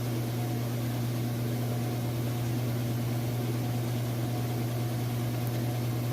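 A Kenmore washing machine runs smoothly with a steady, even mechanical hum and a low constant drone, heard alone with no knocks or irregular noises.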